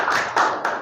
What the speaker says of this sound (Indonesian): Si tepuk tangan dulu dong buat kelompok